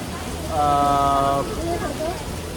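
Steady, heavy monsoon rain hisses throughout at Matheran railway station platform, with a voice speaking and a brief tonal blare rising above it early on.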